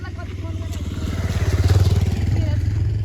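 A motorcycle carries riders on a trip to Syarpu Lake in Nepal, its close engine throbbing in a fast, pulsing rhythm that swells slightly, with people talking over the ride.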